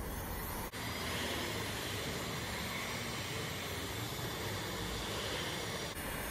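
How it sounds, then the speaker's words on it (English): A heat gun blows hot air onto heat-shrink tubing over bicycle handlebar grips, giving a steady loud rushing roar that starts and stops abruptly and holds without variation throughout. "Then I'm gonna grab the heat gun, just start blowing on that."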